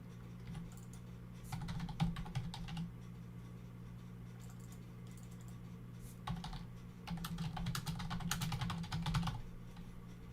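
Typing on a computer keyboard in bursts of rapid clicking keystrokes, close and clear, separated by short pauses over a low steady hum.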